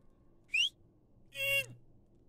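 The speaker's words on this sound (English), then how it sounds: "Did you whistle? Yeah, I did." A person whistles two short notes, a quick rising chirp and then a longer tone that slides downward, set apart by a quiet pause over faint low background hum.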